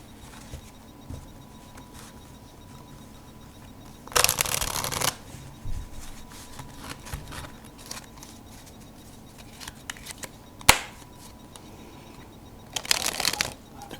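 A Bicycle Shadow Masters playing card deck spreading across a surface, with two short riffling bursts and a quick flick between them, fairly close against a quiet room.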